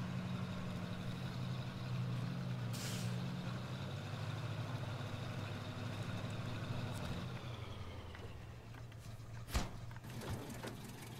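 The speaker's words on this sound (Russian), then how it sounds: "это движок затух" A ZIL truck in the SnowRunner video game runs with a steady low engine rumble that drops away as the engine dies, followed by a brief sharp hiss near the end; no talking.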